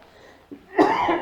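One person gives a short, harsh cough, a faint throat sound followed by a louder burst that fades out within about a second.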